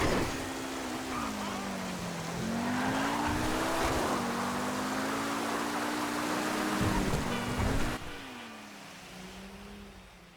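A Pegassi Ignus supercar in GTA drives with a steady engine drone that rises and dips through gear changes, with tire squeal and skidding during oversteer before the sound drops off near the end.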